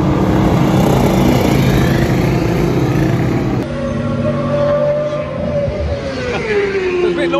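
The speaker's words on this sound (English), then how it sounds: "it's a bit noisy when the BSB guys are out there, they're quite loud bikes." British Superbike racing motorcycles lapping a test circuit, a loud continuous engine roar that stays close and steady, with one bike's pitch rising and falling as it passes.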